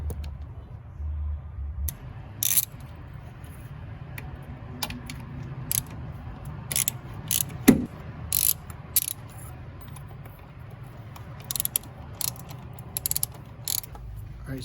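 A ratchet wrench clicks in bursts while throttle body bolts come off a Mitsubishi Montero Sport engine. The rapid metallic clicking is close and intermittent, with short pauses between runs.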